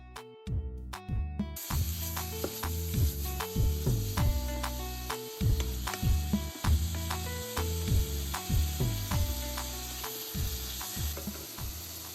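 Chopped onion fries in olive oil with a soft steady sizzle, overlaid by rhythmic wooden-spoon knocks and scrapes against the pot, close and unaccompanied by speech.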